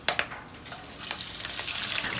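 Chopped onion frying in hot ghee with whole garam masala spices for chicken pulao, a close, bright sizzle with a couple of sharp splatters at the start, building into a steady hiss.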